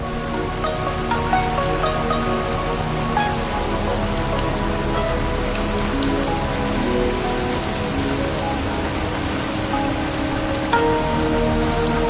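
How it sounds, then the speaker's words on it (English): Heavy tropical rain pounds steadily on surfaces in Vietnam's Mekong Delta, a dense, even patter of drops that continues loudly throughout, with a faint tonal hum underneath. "Undaunted by the sudden tropical downpour, the journey continues."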